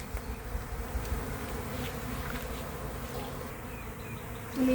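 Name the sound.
honey bee swarm buzzing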